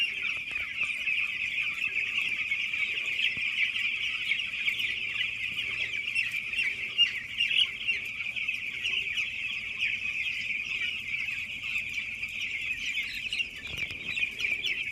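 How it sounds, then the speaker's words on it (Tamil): Broiler chickens on a poultry farm cluck continuously as a dense chorus of many birds, moderately close and steady across the whole stretch, with no talk over it. "இது பிராய்லர் கோழி."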